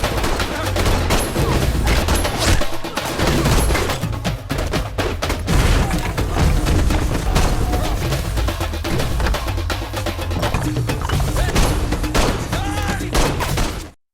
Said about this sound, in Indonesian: Sontak bunyi pistol pun memecah situasi